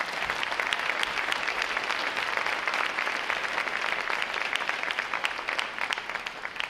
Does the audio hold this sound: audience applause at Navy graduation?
yes